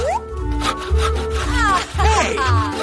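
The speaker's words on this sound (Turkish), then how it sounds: "Ayakkabımın topuğunu kesmem gerekiyor." A blade cutting through the heel of a shoe, giving a rough, rhythmic sawing and rubbing sound, close and fairly loud, with a voice and other background sounds mixed in.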